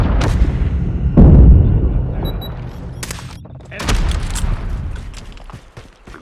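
Gunfire and explosive booms from a match of the mobile shooter COD Mobile, with loud bursts and impacts rising and falling over continuous battle noise, heard alone without talk.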